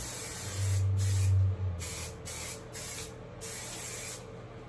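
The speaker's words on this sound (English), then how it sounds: "I'm gonna take a little bit of light hold hairspray" Several short hissing bursts of light-hold hairspray, close and fairly loud, separated by brief pauses over a low background hum.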